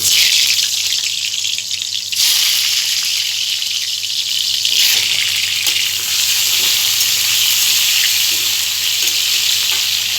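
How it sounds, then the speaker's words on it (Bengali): Potatoes coated with salt and food colouring fry in hot oil, giving a steady, loud sizzle that runs unbroken and close throughout, with no talking. "এবারে আমি এই তেলটার মধ্যে নুন আর ফুড কালার মেশানো আলুটা ভেজে নেব।"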